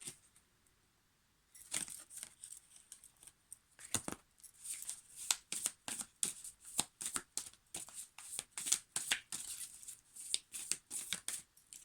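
Tarot cards being shuffled by hand, a rapid run of papery riffles and flicks that starts after a short quiet pause and continues in close, irregular bursts.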